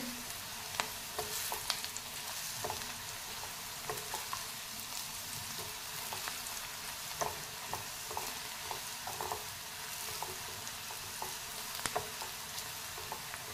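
Onion sautés in oil until reddish brown, a steady sizzle with frequent light stirring scrapes and taps over it.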